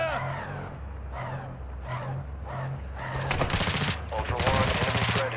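Rapid automatic gunfire from a Call of Duty MW2 match crackles in dense bursts, building to heavier sustained volleys toward the end, mixed with game sound under a low engine-like hum and a voice talking.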